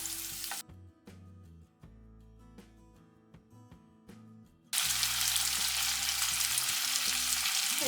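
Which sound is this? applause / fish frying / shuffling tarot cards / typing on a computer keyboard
fish frying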